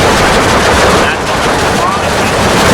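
Dense automatic weapons fire in the Steel Division 2 war game, a loud, unbroken wall of overlapping machine-gun bursts and gunfire throughout the battle.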